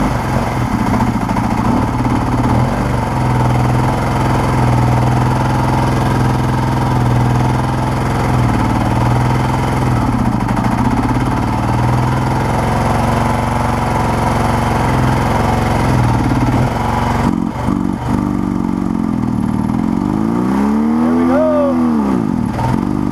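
A 1980 Kawasaki KZ LTD440 motorcycle engine running on its own fuel after a rebuild, a loud steady close idle with small rev changes, then a couple of throttle blips rising and falling near the end.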